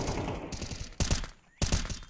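Gunfire during a Counter-Strike match: a rattle of quick shots, then two sharp, loud bursts about half a second apart, each with a ringing tail, heard alone without talk.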